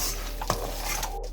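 Grated coconut being stirred in a pan on the stove, with soft scraping strokes and a faint steady sizzle underneath, a couple of clearer scrapes standing out, close and quiet with no talking.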